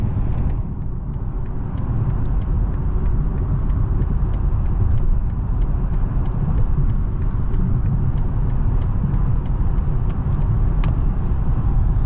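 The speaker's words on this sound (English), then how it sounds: "Going over some potholes on the highway, still very insulated." Inside a 2020 BMW 740i on the highway, a steady low road rumble fills the cabin, with faint, regular thumps from potholes and seams passing under the tyres.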